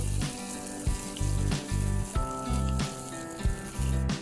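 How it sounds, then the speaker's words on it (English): Mustard seeds and tempering spices crackling in hot oil, a loud sizzle broken by rhythmic scraping or stirring strokes roughly twice a second. "Oil is hot and I'm adding all the tempering ingredients to it"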